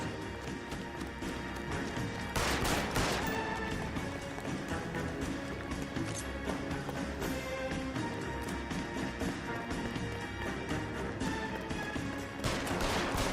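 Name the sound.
gunfire in video game LA Noire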